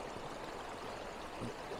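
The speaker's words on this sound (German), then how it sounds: "Jetzt machst du so kreisende Wasserbewegungen." Water swirls in a gold pan holding black sand and gravel during gold panning, a soft continuous sloshing and trickling, faint and steady.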